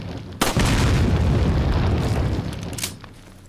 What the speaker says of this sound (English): these are trip mines. Do not walk into them, you will die. Shoot them from a distance.